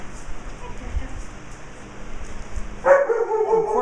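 A dog barks once, up close and loud, near the end, with a low rumble and a voice under it. Several dogs are kept at the home.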